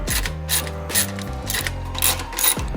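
A socket ratchet clicks in several short bursts while tightening 15 mm exhaust clamp nuts on an AWE axle-back exhaust fitted to an F30 BMW 340i with the B58 engine, close and fairly crisp, with no talk.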